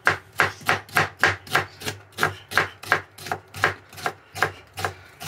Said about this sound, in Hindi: यहाँ पे हमने प्याज को जो है काटना है।